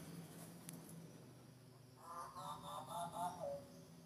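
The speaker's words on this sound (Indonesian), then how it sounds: "Nah, itu suara burung jagal Papua itu." A Papuan butcherbird gives a short series of clear, melodic whistled notes, fairly faint and at a distance, following a quiet stretch of outdoor background noise in an aviary setting.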